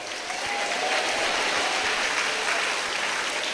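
A congregation at a Malayalam Christian worship service claps their hands in loud, sustained, dense applause that holds steady from start to finish.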